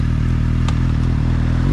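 A Suzuki GSR 750 motorcycle pulls away, its steady low engine drone loud and close, with a brief clatter in the middle and a slight rise in revs at the end.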